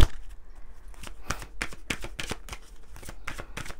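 Oracle des miroirs oracle cards are shuffled by hand in a quick run of crisp, papery riffling bursts, close and fairly loud, with no talking.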